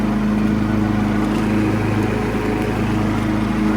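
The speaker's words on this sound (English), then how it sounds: "We're mowing right now." Classic Husqvarna lawn mower running while mowing, its engine droning loud and steady up close with a constant hum throughout.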